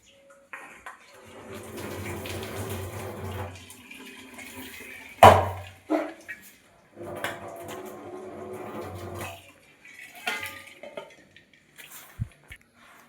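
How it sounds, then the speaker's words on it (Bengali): Hot water from boiled chow mein noodles pours off in a steady splashing rush, then stops and starts again in a second stretch, with a sharp clatter of a pot in between. No one speaks. "চাউমিনটা সেদ্ধ হয়ে এসছে, এটা আমি জলটা ঝরিয়ে নিই।"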